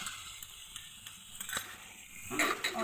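Cumin paste being stirred with fried onion and garlic in a pan, a soft continuous sizzle with light spoon scrapes and taps that grows louder near the end.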